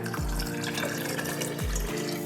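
Water pours steadily into a jar already holding sugar for a homemade fermentation starter, a continuous liquid rush with two brief low gurgles as the level rises, no voices.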